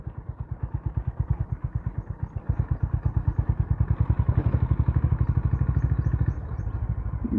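A Honda Activa scooter rides along a muddy, damaged road, its engine putting out a close, steady, rapid rhythmic thrum that swells slightly in the middle before easing off.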